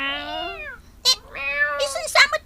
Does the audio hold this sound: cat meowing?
yes